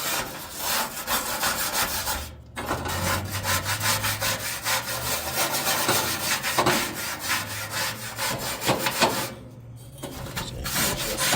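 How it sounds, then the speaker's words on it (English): A wire brush scrubs corrosion off the igniter of a Blackstone griddle in steady, rapid rasping strokes, close and continuous with two brief pauses. "We'll get that cleaned up with a little wire brush."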